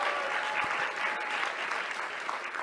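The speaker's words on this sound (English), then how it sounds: "let's have a round of applause." A room full of people claps in steady applause, a dense even wash of hand claps for a few seconds with no talking over it.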